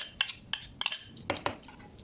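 Vegetable and tofu wonton filling is mixed in a bowl, producing a handful of light clinks and scrapes of a utensil against the dish, spaced irregularly and close by, with no talking.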